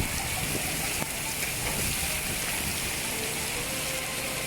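Heavy rain falling in Mecca, a steady broadband hiss of downpour that stays constant throughout, with no clear voices over it.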